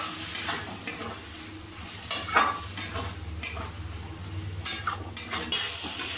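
Chickpeas with a cashew and rice paste are stirred in a frying pan: a spoon scrapes and knocks against the metal in irregular strokes over a soft, continuous sizzle, with no talking.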